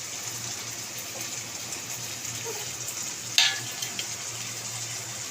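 Cumin, chilli, turmeric and salt with taro leaves stirred in a frying pan: a steady, soft sizzle with a brief scraping clatter of the spoon partway through, close and unaccompanied by talk.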